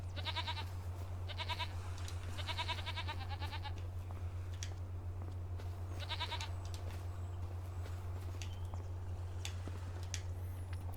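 Goats bleat in several short bursts in the Farming Simulator video game, heard over a steady low ambient hum with gaps between the calls.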